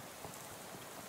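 Rain falling in the video game Shadows Over Loathing, a faint, steady patter and hiss with no voices.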